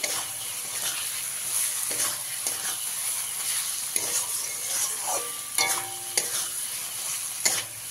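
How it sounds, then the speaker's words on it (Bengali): Fried potatoes being stirred into frying spices in a pan, with a steady sizzle of oil under intermittent scraping and clinking of a spatula against the pan, close and moderately loud. "এবারে এর মধ্যে আমি দিয়ে দেবো ভেজে রাখা আলুগুলো, দিয়ে মশলার সঙ্গে ভালো করে মিশিয়ে নেব।"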